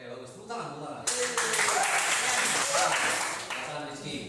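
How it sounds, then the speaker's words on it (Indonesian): A classroom of students claps for classmates during a lesson, a short burst of scattered applause rising and fading while a teacher keeps talking over it. "Tepuk tangan, tepuk tangan."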